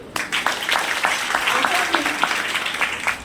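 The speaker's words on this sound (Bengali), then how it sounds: "হাততালি হবে।" An audience at a network marketing training session breaks into scattered, uneven clapping that keeps going for a few seconds while a voice speaks over it.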